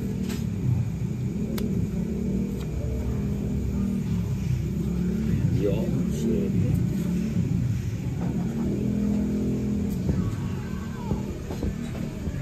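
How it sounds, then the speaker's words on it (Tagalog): A motorcycle engine revs with a steady, rumbling drone that swells and eases throughout, close and fairly loud, with a brief spoken remark over it. "Hindi ganyan bubomba yung motor ni Bombay."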